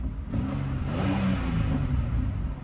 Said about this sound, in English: I've been giving her a few little revs